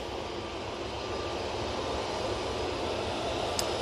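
A Ryanair jet begins its takeoff roll at Manchester Airport bound for Alicante, a steady broadband engine roar holding at an even, fairly distant level throughout.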